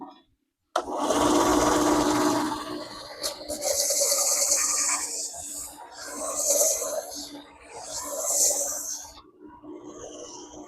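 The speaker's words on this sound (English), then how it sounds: "So I'm going to go ahead and start this up, and we'll see how it see how it sands." A Harbor Freight Bauer 4x36 belt sander starts up after a brief silence and runs steadily, its abrasive whir swelling in loud waves of rasping hiss as a workpiece is pressed against the belt, close and without speech.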